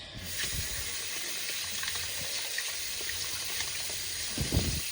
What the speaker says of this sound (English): just got to put some cold water on that